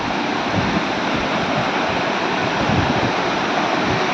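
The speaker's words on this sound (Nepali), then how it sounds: "झर्नाको आवाज यहाँ सुनिरहेको छ" A waterfall in Shivapuri National Park near Kathmandu pours with a constant broadband roar of rushing water, steady and fairly close, with no voices.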